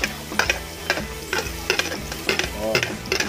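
Garlic sizzles in a pan as a utensil stirs it, the soft frying hiss broken by regular clacks and scrapes of the spoon against the pan.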